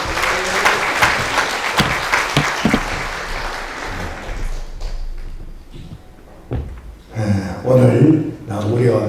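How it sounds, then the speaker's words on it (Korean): Congregation clapping to welcome a pastor at a March 1st prayer rally in a church, a burst of applause over the first few seconds that fades as a voice begins speaking. "박수로 맞이하겠습니다."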